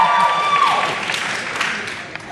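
Sociology students clap loudly for a candidate at a candidate forum, a burst of close, dense applause with some cheering that tapers off over a couple of seconds.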